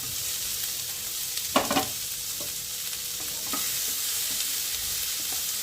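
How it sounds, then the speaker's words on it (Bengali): Mixed vegetables with tomato and green chillies frying in oil and spices for a Bengali oats khichdi, a constant close sizzle broken by a few sharp stirring clatters. "সব সবজিগুলো তেলে আর মশলা দিয়ে ভেজে নিচ্ছি"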